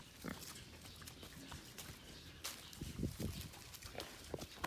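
Pampanga native cross pigs crossed with Quezon Black grunt and snort close by in a pen, with short uneven bursts of grunting mixed with shuffling hooves and movement.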